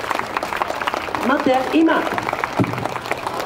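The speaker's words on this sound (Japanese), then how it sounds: "みんなもっと拍手ちょうだい" Audience clapping at a Yokohama street performance of a pole act, steady applause running under a performer's loud talking throughout.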